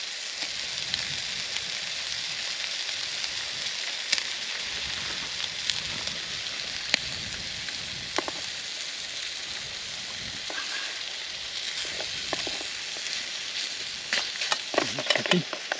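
Mushrooms fry in a pan on a small camp cooking setup, a steady close sizzle with scattered crackles and pops that grow busier toward the end.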